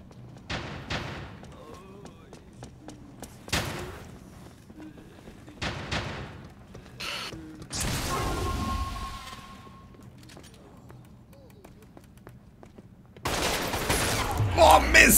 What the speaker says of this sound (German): Erstmal ein bisschen Pistole leveln.